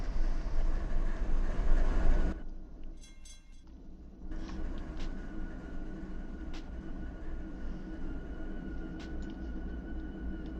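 Steady low rumble of a train with GEVO locomotives running in a video game, loud at first, then dropping briefly before settling into a constant mechanical drone with faint clicks.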